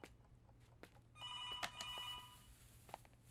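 An old-style telephone bell rings in a short metallic burst, fairly quiet, with a few soft knocks and footsteps around it.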